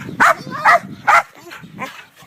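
Several dogs bark at a ranch, about four sharp, loud barks in an uneven rhythm, with softer whines and murmurs between them.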